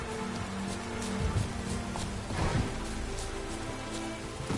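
Steady rain pours down in The Witcher III: Wild Hunt, a dense, even hiss of falling water on the ground with occasional heavier patters, continuous and fairly close for several seconds.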